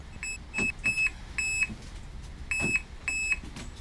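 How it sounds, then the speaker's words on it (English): A car alarm on a car parked in a garage sounds a run of sharp, high electronic beeps in short bursts, some single and some paired, loud and close with pauses between. "Alarm works."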